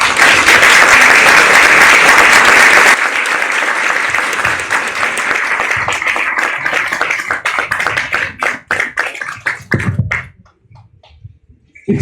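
A crowd at a book launch breaks into loud, dense applause that thins into scattered individual claps and fades out near the end.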